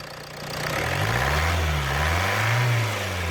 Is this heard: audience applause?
no